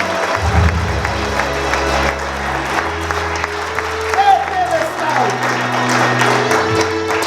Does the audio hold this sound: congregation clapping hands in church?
yes